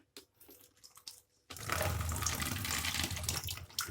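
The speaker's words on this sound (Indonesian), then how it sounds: "selanjutnya kita nyalakan airnya" Water gushes steadily into the tub of an Aqua 8 kg single-tub washing machine after a brief quiet start with faint handling sounds, then runs loud and continuous to the end.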